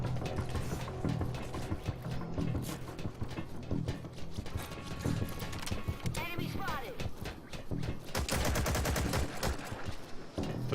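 Rapid bursts of gunfire in the online multiplayer shooter Metal Gear Online, loud and dense with mechanical clatter, overlapped by someone talking.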